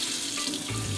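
Water spraying steadily from a faucet after its button is pressed, a continuous close hiss and splash with no talk.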